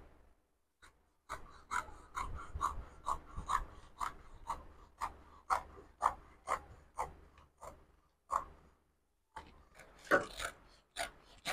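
Scissors cut out a paper sewing pattern for a gown, giving a close, quiet run of rhythmic crisp snips and rasping paper strokes with brief pauses between them.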